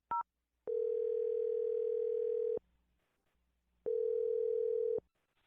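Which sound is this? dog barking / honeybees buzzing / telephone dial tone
telephone dial tone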